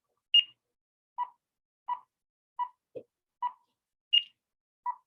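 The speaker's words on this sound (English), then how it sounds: "Did you all hear the beep?" Isolated electronic beep tones from an auditory P300 test sound in a sparse sequence: mostly lower pitched, with two higher beeps and one brief low blip, each short and clean against silence.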